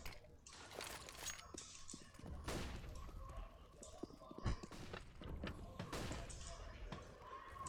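Bursts of gunfire in the game CS:GO crack out in scattered volleys during a tournament match, with sharp shots spread across the stretch under a caster's fast running commentary.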